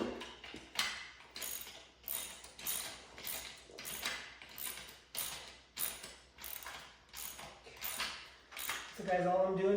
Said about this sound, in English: I got my other that I'm gonna tighten with my ratchet.